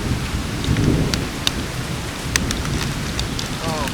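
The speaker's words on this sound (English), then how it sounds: "Oh, it's hail this time." Heavy rain mixed with hail pours down outdoors in Paris, a steady dense hiss with sharp scattered ice impacts cracking through near the microphone.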